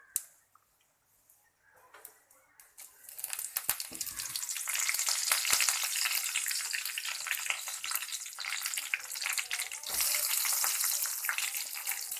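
Noodles frying in a pan during village-style cooking, a dense crackling sizzle that starts after a few quiet seconds with faint clatter, then holds steady and loud to the end.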